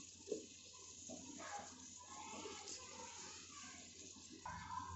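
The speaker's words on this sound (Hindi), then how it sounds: "और पानी इसमें थोड़ा सा डालेंगे," Water is poured into a cooking pan for a potato and aubergine curry, a soft continuous splashing trickle heard close by and fairly quiet, with a brief louder gush near the end.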